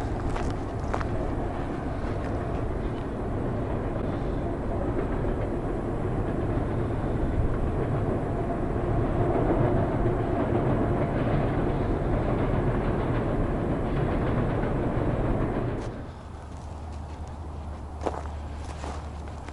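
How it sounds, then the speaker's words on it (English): A Canadian Pacific Rail freight train rumbles past beside a partly thawed winter river, a steady broad roar with rolling rattle that holds for about fifteen seconds and then drops away abruptly, leaving quieter wind and background. "And right on cue, the Canadian Pacific Rail."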